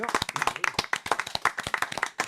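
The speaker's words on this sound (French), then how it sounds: "onathan Dassin, donc l'un des 2 fils de Joe, on l'applaudit aussi, bien sûr." Lively applause from a crowd, dense rapid clapping that stays steady and close throughout.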